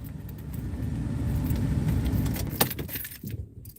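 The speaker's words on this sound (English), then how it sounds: "I'm trying to find my keys here." Keys jangle and clink as someone rummages for them, a close, busy metallic rattle over a steady low car-engine rumble, with a brief sharper clatter near the end.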